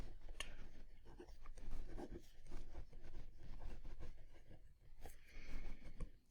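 A pen or pencil writes by hand on paper, a close, soft scratching with short strokes and brief pauses, working out a power series problem.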